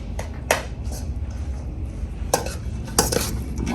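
Mozzarella and chopped cheddar cheese being mixed together in a bowl for stuffed zucchini: soft scraping and stirring with a few sharp utensil clinks against the dish, close by, with no talking.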